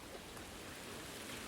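Rain beginning to fall in the fishing video game Ultimate Fishing Simulator, heard as a soft, steady hiss of raindrops, quiet and continuous throughout.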